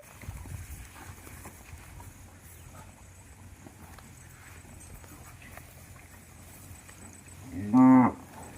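A single loud low moo rises near the end, after a long stretch of quiet outdoor ambience while cows graze on a farm.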